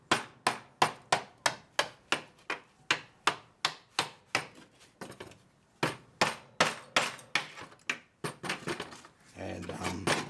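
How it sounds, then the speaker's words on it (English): Sharp metallic knocks of a hammer striking a chisel against a computer circuit board, about twenty evenly spaced close blows in a steady rhythm, with a short pause midway and a scraping rustle at the end. "I've had to use a hammer and chisel."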